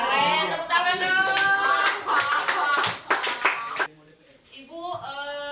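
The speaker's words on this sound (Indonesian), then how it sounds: "Tepuk tangan dong." A classroom of students applauds, a dense burst of clapping for about four seconds that breaks off, followed by a teacher's voice speaking.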